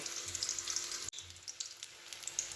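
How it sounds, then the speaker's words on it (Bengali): Potato pieces frying in hot oil while cooking biryani, a soft continuous sizzle with crackling pops, fairly quiet and steady, no talking. "এই যে আলুগুলো লাল লাল করে ভাজা হয়ে গেছে"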